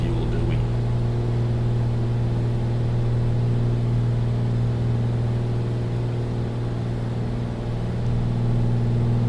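A simulated single-engine piston Bonanza runs at full throttle near 2500 RPM, a loud constant droning engine hum with a steady low tone throughout.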